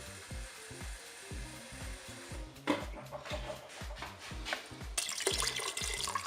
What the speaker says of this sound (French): recouvrir d'eau. Là j'ai mis 300 ml, je vais rajouter un petit peu